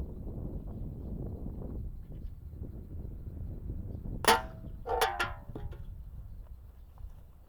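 A sharp crack from a homemade compressed-air rifle fired from 4 metres, followed by a metallic clang as the pellet hits a can, then a couple of quieter clinks, over steady outdoor wind noise.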